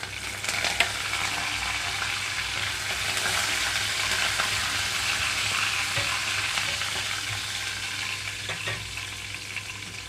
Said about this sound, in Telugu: ఇక్కడ ఆయిల్ అంతా హీట్ అయిన తర్వాత తాలింపు గింజలు అలాగే ఎండమిరపకాయలు